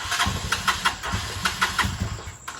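A Rusi Macho 175 motorcycle engine runs close by with an uneven misfire, popping and stumbling in irregular bursts instead of idling smoothly.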